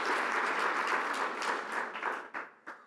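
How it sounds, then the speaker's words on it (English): Audience applause at a homelessness charrette panel, a dense close wash of clapping that thins out near the end into a few scattered final claps. "Anyway, you can clap."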